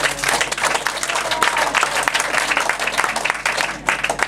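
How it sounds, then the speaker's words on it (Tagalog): Church congregation applauding during a Filipino sermon on biblical economics, loud sustained clapping from a crowd with uneven bursts, filling the whole stretch. "Isang ang masigabong palakpak pa."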